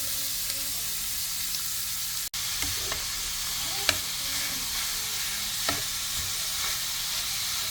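Baguio beans and carrots sauté in a pan with a continuous close sizzle, punctuated by a few sharp spatula clicks and stirring knocks, no voices.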